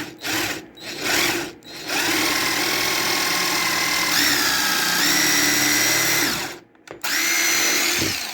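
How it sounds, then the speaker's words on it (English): A power drill drilling a pilot hole whirs loudly in a few short bursts, then runs in a sustained, rising whine before stopping and starting again, up close. "I drill a pilot for all of the holes that I use."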